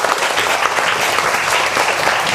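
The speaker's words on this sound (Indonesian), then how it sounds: "Tepuk tangan untuk Putri Samawa" Dense, continuous clapping from a group of children, lively and even, filling the whole moment without talk.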